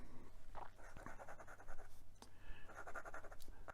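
An Aaron Beta flex fountain pen nib dragging across paper, close and fairly faint, with a steady papery scratch in short strokes and small pauses between them.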